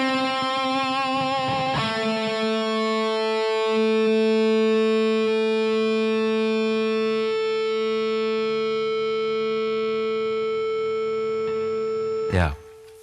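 Electric guitar played through a BluGuitar amp with reverb: a single sustained chord rings out with rich harmonics, decaying slowly over many seconds before a sharp burst near the end.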